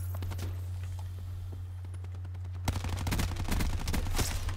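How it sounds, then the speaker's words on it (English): Burst-fire assault rifle shots from Call of Duty Black Ops 4 multiplayer, with a few sparse distant pops giving way to louder, closer bursts of quick grouped shots over a constant low hum. "It seems like it's a burst. It's an assault rifle."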